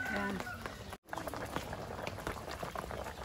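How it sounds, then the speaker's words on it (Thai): Bubbling water simmers steadily in a pot of cooking saltwater fish close by, while a person talks over it. "น้ำเดือดปลาเริ่มสุกแล้วนะยาย"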